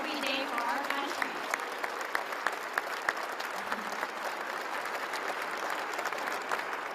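An audience claps steadily for serving Canadian Armed Forces members at a government announcement, a dense, even round of applause lasting several seconds with faint crowd murmur beneath.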